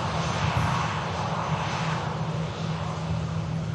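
An airliner lands at Manchester Airport in a rough crosswind, its engines giving a loud, steady roar close by throughout.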